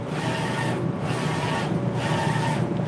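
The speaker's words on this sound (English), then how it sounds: "So while this is printing, I'm getting ready to set up the dryer" Printer running through an order ahead of a dryer setup, giving a steady, loud mechanical whir and rub that swells in repeating passes about once a second, with no voices.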